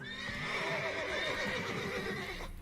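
Horses in The Witcher 3 give a loud, close whinny that rises and trembles for a couple of seconds, with faint hoof clatter underneath and no talking.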